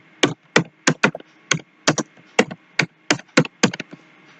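Python code being typed on a computer keyboard: a dozen distinct, crisp key clicks in an uneven rhythm, close and clear with near silence between strokes.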